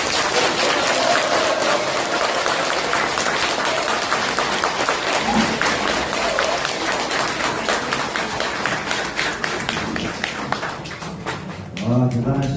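Audience applause at a launch event: steady, dense clapping from a crowd that carries on for over ten seconds, loud and close, tapering near the end as a voice comes in.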